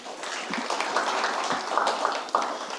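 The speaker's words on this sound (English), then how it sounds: "Another round of applause for Mr. Horace Wormley." Audience applause for Mr. Horace Wormley at the Jackie Robinson Community Center's 50th anniversary building dedication: a moderate, steady wash of clapping with a few louder individual claps, lasting a few seconds.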